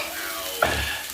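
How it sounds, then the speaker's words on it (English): Broccoli, red onion, yellow, orange and red peppers and tomato hit a hot pan for sautéing, a sudden burst of sizzling that settles into a steady close fry; no talking. "broccoli, red onion, yellow pepper, orange pepper, red pepper, tomato, and all of that is about to get sauteed up"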